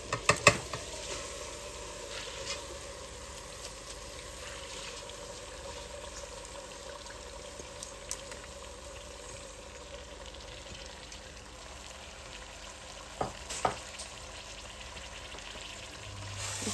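Mash dal is stirred and fried with spices in a pan, giving a quiet continuous sizzle with a few clinks and scrapes at the start and around thirteen seconds.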